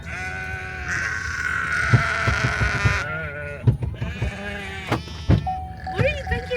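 Sheep bleat repeatedly on a ranch with a feedlot, several wavering calls near and loud, overlapping one another, with people talking in between and low bumping ranch noise underneath.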